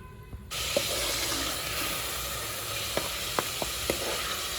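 Whole garam masala spices (black pepper, cloves, cinnamon and a single cardamom) hit hot oil in a pan, bursting into a loud, steady sizzle with a few sharp pops and crackles, close up and without talk.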